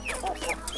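Free-range local chickens on a Ugandan poultry farm give a short burst of close clucking and squawks, loud and with no talk over them.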